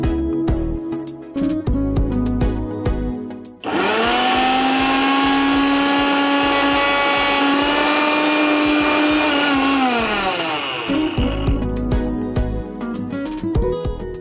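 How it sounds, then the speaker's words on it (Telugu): A mixer grinder runs for about eight seconds, a loud steady whine with a rising start and falling stop, grinding green chillies and lemon juice into a smooth paste, with music before and after. "మిక్సీ పట్టుకుని వచ్చేసేది."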